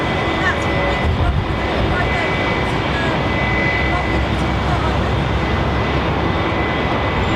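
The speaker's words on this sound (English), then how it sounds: "So this aircraft equipped with an old set of Rolls-Royce RB211s that did, of course, power the entire 747 fleet with British Airways." A British Airways Boeing 747 powered by Rolls-Royce RB211 engines at Heathrow, a steady broadband jet roar that stays loud and constant throughout, with no break or lull.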